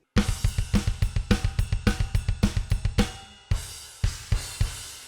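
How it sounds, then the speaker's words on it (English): A double bass drum pattern at slow tempo: steady rapid kick drum strokes in even pairs under crashing cymbals, loud and close, with a few spaced hits and cymbal crashes toward the end. "This double bass pattern at a slow tempo, it would sound something like this."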